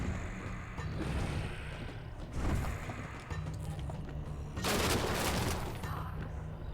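Gunfire in the video game Lovecraft's Untold Stories, rapid bursts of shots with mechanical clatter, loud and repeated in waves, no talk.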